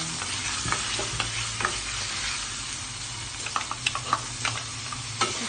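Garlic fries and is stirred in a pan for squid adobo, giving a steady close sizzle broken by repeated scraping and clicking strokes of a utensil, with no talking.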